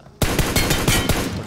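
Rapid automatic gunfire in a battle royale shooter, a continuous burst of loud, evenly spaced shots starting abruptly and running to the end without pause.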